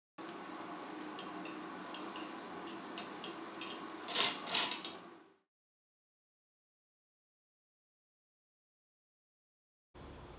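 Vegan potstickers hit a hot pan and sizzle loudly for about five seconds, a dense crackling hiss with a brief louder flare near the end, then cut off into silence before a short return.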